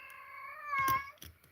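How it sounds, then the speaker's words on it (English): A pet cat lets out one drawn-out, clear meow up close, followed by a few soft rustles and small clicks in an otherwise quiet room. "You guys hear my cat?"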